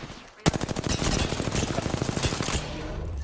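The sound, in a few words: gunfire in the video game Apex Legends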